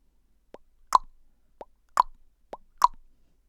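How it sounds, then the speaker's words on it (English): Short mouth pops made by a person as voice-control commands for eye-tracking software, sharp and close, coming in three pairs of a soft click followed by a louder pop, with silence between. "then you can move your selection using the eye tracker and the pop sound"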